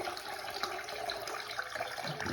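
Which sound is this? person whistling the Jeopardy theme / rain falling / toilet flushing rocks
toilet flushing rocks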